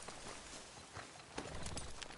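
Horse hooves clip-clopping under a rider in the video game Red Dead Redemption 2, a dense, muffled patter buried in a busy ambient wash.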